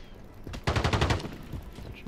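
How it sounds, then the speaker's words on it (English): Sniper gunfire in a shooter video game sounds as a rapid, close burst of shots lasting about half a second, then a quieter stretch of game ambience. "I'm getting sniped"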